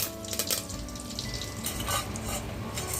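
Bay leaf and curry leaves dropped into hot oil, crackling in a dense, continuous sizzle close up, with a few sharp spattering bursts and no voices.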